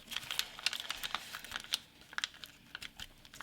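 Paper is crinkled and creased during a reverse fold and squash on an origami turtle, giving quick irregular crackles and rustles, close and fairly faint, with no talk.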